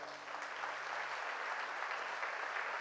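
Quiet but sustained applause from a church congregation during a sermon, an even wash of many hands clapping at a distance.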